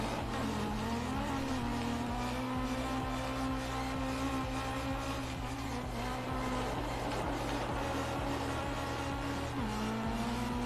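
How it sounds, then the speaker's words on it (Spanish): Rallycross car skidding on the Smelter circuit in DiRT 3, a steady engine drone with a sustained tonal whine under continuous tire and gravel noise, loud and unbroken throughout with no talking. "¿Has visto el derrape?"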